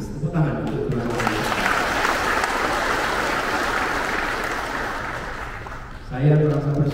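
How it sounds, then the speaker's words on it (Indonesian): Crowd applause at an Indonesian political speech, a dense sustained wash of clapping from about one second to six seconds, with a voice speaking briefly at the start and again as it fades. "Tepuk tangan untuk teman-teman."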